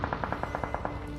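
Rapid automatic gunfire in a solo-versus-solo shooter video game, a steady burst of about a dozen evenly spaced shots at moderate loudness, with no talking over it.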